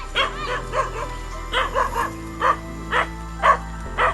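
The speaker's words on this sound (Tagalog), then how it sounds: "So dito yun na yung aso." A dog barks repeatedly in short yips at a steady pace, about eight barks, close and clear over a faint background hum.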